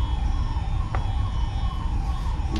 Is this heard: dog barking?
no